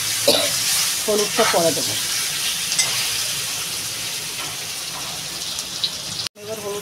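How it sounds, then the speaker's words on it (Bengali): Elephant foot yam sautéing in a pan, a steady sizzle with stirring scrapes close by, while someone speaks briefly early on; the sound cuts out for a moment near the end. "তো ওলটা ভালো করে কষাই"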